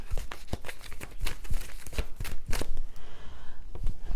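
Angel oracle cards shuffled for a tarot reading, a quick run of close, crisp riffling bursts and flicks, repeated rapidly for several seconds before a softer pause near the end.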